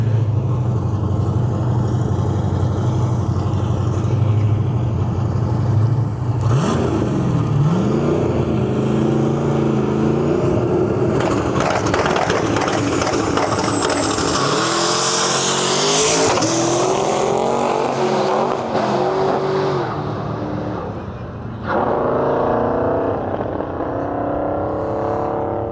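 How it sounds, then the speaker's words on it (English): A turbocharged, roughly 1,400-horsepower Pontiac GTO drag car with a six-speed stick shift roars loudly down the track, its engine rising through gear changes with a screaming turbo whine near the end. "his 6-speed or stick-shift GTO pulling up the line here"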